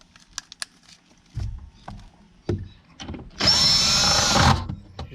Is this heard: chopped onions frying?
no